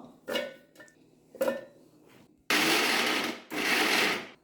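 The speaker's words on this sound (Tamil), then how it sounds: "அதை இப்போ வந்து நம்ம மிக்சியில் போட்டு கொஞ்சம் குற குறப்பாக அரைச்சிக்கலாம்" Mixer grinder coarsely grinding small shallots for vengaya vadagam, two loud short bursts of whirring motor in quick pulses after a few light clinks of handling.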